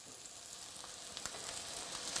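Cabbage hashbrowns fry in oil with a soft, steady sizzle and scattered small pops, fairly quiet and with no talking.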